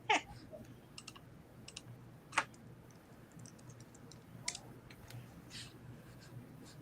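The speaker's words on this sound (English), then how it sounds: "I have been typing into the Facebook stream the titles of everyone's stories." Typing on a keyboard into a Facebook stream, a scatter of faint, uneven key clicks and taps with a few sharper strikes over a low room hum.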